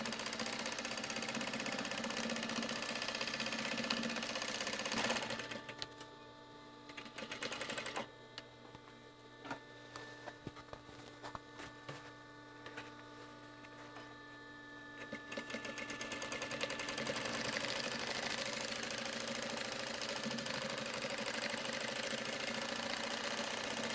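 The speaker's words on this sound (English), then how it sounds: "I'm like sewing it together and then I'm drawing on it a little bit with the machine." A sewing machine stitches and draws on a fabric artwork piece in a loud, continuous mechanical whir that drops off in the middle for several seconds of quieter clicking before resuming steadily.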